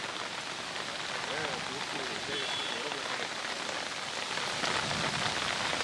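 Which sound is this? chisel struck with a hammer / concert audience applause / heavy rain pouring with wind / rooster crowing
heavy rain pouring with wind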